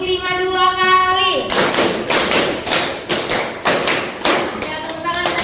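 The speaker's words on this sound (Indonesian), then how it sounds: "Ya, tepuk tangan lagi." Children in an Indonesian classroom clapping-game count, clapping hands together in quick group bursts, a steady rhythm of loud claps close by after a brief sustained tone.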